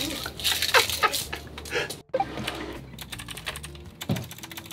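Rapid, uneven typing on a Logitech Pro X computer keyboard, close and crisp, with a short pause midway before the keystrokes resume.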